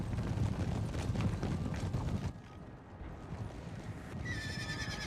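Cavalry horses neigh and gallop through a Napoleon Total War battle, a dense clatter of hooves and whinnies that thins out midway before a sharp, high whinny rises near the end.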